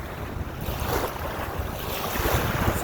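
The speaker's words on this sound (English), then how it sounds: "Hopefully the wind noise is not too bad in the video." Gusty wind buffets the microphone on a lake beach shore in a park, a steady broadband rush with low rumbling thumps and faint lapping water behind it, continuous and fairly loud with no voices.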